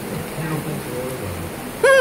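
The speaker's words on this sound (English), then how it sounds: "Rain, rain, don't go away." Rain falls in Florida as a steady, soft broadband hiss, with a short harmonic cry cutting in at the very end.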